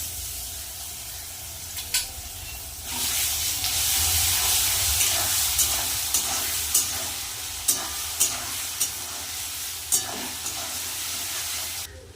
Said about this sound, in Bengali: লাল লাল করে একটু ভেজে নেব সবার আগে এবার দিয়ে দেবো রসুন বাটা